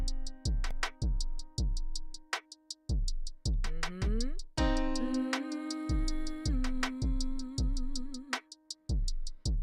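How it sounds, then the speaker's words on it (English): Minor third intervals on a plucked, piano-like instrument, with sharp struck notes decaying quickly in a regular series of pairs and some sustained overlapping tones in the middle, clear and alone with no talking. "That interval is a minor third."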